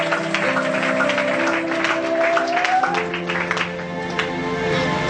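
Church congregation clapping and cheering in praise of the Lord, a dense burst of applause with crowd voices and sustained tones underneath, fading slightly toward the end.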